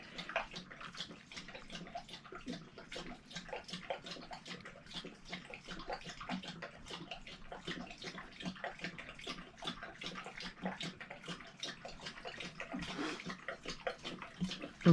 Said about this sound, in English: You can probably hear my dog in the background drinking his water.